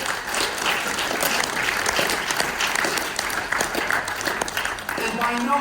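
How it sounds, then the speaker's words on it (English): A congregation at a chapel service applauds, a full, steady clatter of many hands filling the room, with voices mixed in beneath the clapping. "Can we applaud the people who are doing FEP?"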